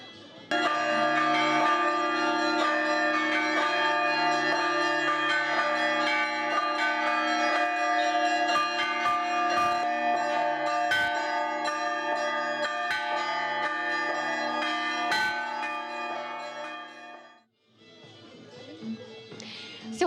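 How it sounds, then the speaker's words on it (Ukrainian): Easter church bells ring from the bell tower of St. Sophia Cathedral in Kyiv in a dense, overlapping peal of many tones, loud and sustained, then fade into quieter background murmur near the end. "почалося це святкування великоднім дзвоном, який пролунав з дзвіниці Софіївського собору"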